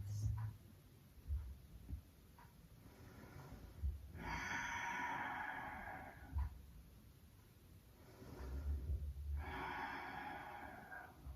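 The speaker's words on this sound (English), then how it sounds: "breathing deeply into that outer left hip for 5 full Ujjayi breaths." Deep Ujjayi yoga breathing during a beginner's hip stretch, with two long, loud, hissing breaths, each drawn out over a few seconds and separated by quieter pauses with soft background hum.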